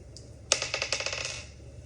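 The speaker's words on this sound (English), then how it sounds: "So we're gonna roll the dice." Dice are thrown and rattle across a hard surface in a quick burst of clicking bounces that fades over about a second.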